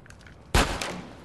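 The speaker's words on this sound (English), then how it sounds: "Who shot at me?" A single loud gunshot in the video game GTA San Andreas Definitive Edition bursts out sharply after a quiet stretch, then decays with a lingering rumble.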